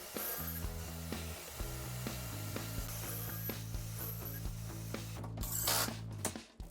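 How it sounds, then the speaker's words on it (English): A drill boring pocket holes into wood for a kitchen island face frame: a loud, continuous motor whine with slight pitch steps runs for several seconds, then cuts off with a brief rattle at the end. "Next up was drilling pocket holes and getting the face frame assembled."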